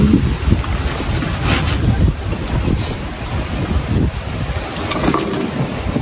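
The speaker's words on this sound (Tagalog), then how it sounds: "malakas ang hangin" Strong wind buffeting the microphone in a rainy coastal setting, loud continuous rumbling gusts with surf-like noise throughout, no voices.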